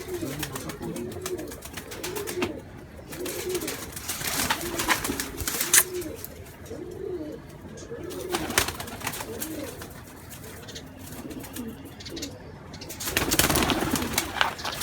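Baby pigeons of pure and cross breeds give soft, repeated cooing calls in a steady rhythm, close by and fairly quiet, with occasional bursts of rustling noise.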